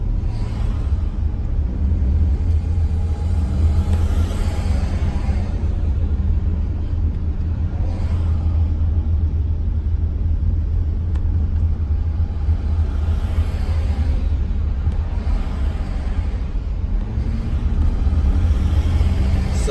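A car drives through peak hour traffic on a Sydney-area freeway from Kingsford to Campsie, with a steady loud low road rumble and engine drone heard from inside the cabin, continuous throughout.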